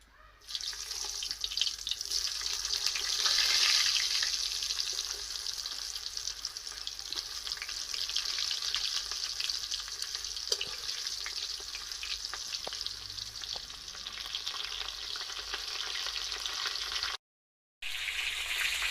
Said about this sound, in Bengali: পটলটা এখন আমরা ভেজে নেব, তার জন্য কড়াইতে একটু তেলের ভেতরে হলুদ দিয়ে দিচ্ছি